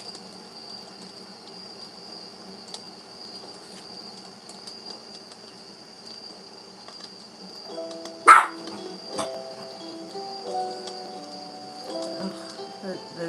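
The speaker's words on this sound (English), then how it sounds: "The dog is definitely fully charged." A dog in a home during a live evening stream gives one sharp bark midway, with a softer yelp after it, over a steady high electronic whine and faint insect-like chirping.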